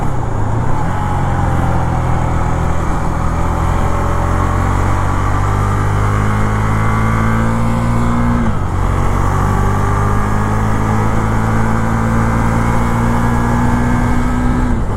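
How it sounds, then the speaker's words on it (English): A Husqvarna 401 Svartpilen motorcycle powered by a KTM 390 Duke engine runs steadily and close up, its tone rising and falling through a few shifts with a brief dip midway, loud and continuous with no talk. "I believe the engine comes from a KTM 390 Duke."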